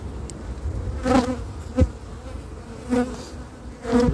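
Honeybees buzz steadily around a hive during a spring inspection, a continuous droning hum with several louder passes as individual bees fly close by, no voices.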